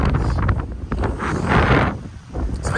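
Gusting wind on a choppy beach in Nassau, The Bahamas, buffeting the microphone with loud, steady roaring that swells in the middle, with no voices.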